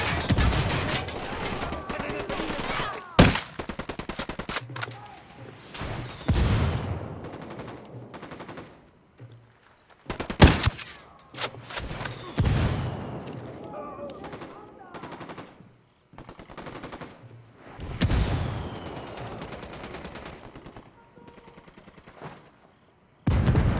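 Video game gunfire in Ghost Recon Wildlands: repeated loud bursts of automatic fire and single shots scattered across about twenty seconds, with quieter stretches and faint voices between the volleys.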